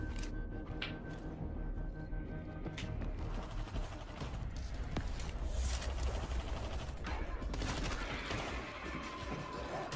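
Compact SMG fire in the zombie shooter World War Z rattles in rapid bursts amid dense game action, with sharp cracks and clattering mechanical noise throughout.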